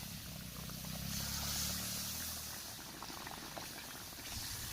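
Salted fish frying in oil in a pan under a splatter cover, making a constant bubbling sizzle that stays fairly quiet and muffled for the whole stretch, with no speech.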